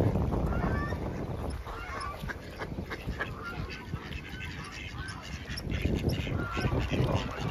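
Ducks and swans being fed outdoors in steady rain, with scattered honks and quacks over a constant hiss of rainfall and a faint voice.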